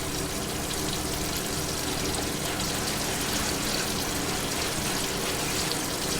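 Tap water runs steadily over raw pork chops being rinsed in a kitchen sink, a constant close hiss and splatter with no pauses and no talking.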